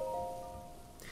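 Rain falls in The Legend of Zelda: Breath of the Wild, a soft, even hiss of rainfall held steady, with a faint tonal game sound at the start.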